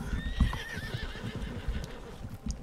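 A horse in the video game Red Dead Redemption 2 gives a clear, wavering neigh over a steady patter of hooves, fairly close and alone with no talk.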